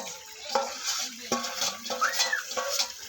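Meat going into a pan at the final stage of a large home-cooked Bengali meal, with scraping, stirring and clinking of a utensil against the pot over a soft sizzle, close by, in irregular bursts.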